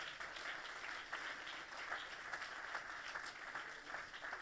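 Sustained applause from a church congregation praising the Lord mid-sermon, thick and continuous, steady in loudness with small swells, and no one speaking over it.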